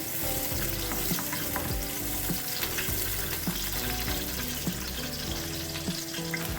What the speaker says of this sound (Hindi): ऑयल हमारा गर्म हो चुका है, हम अब इसमें प्याज ऐड करेंगे, मिक्स करेंगे।